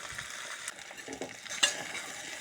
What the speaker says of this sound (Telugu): కలుపుకుంటూ ఫ్రై చేసుకోవాలి